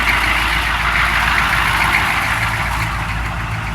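A BMW car engine idles steadily after an alternator repair, a continuous close hum with a low rumble and no voices.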